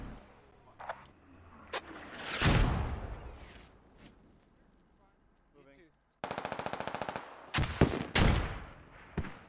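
Bursts of automatic gunfire and heavy mortar-like blasts from a first-person shooter video game battle, with loud booming impacts mid-clip, then a rapid machine-gun rattle followed by several sharp explosive shots near the end.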